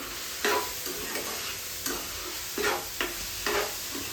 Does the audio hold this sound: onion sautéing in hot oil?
yes